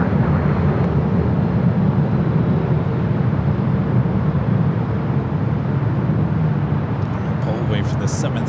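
A Boeing 737 airliner at LAX gives off a loud, steady, broadband jet roar that holds evenly for the whole stretch without fading.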